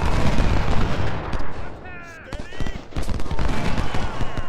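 Dense, rolling musket volleys from a Civil War battle in the strategy game Ultimate General: Civil War crackle loudly, thin out for a brief lull, then return in heavy overlapping bursts while a voice is briefly heard.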